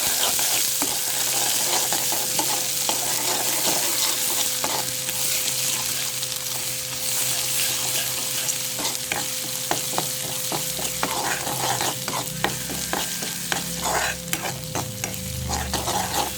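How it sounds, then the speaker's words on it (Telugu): Ginger garlic paste fries in a pan with a loud, unbroken crackling sizzle, scraped and stirred in quick repeated strokes throughout. "పచ్చివాసన పోయేలాగా ఫ్రై చేసుకోవాలి అల్లం వెల్లుల్లి పేస్ట్"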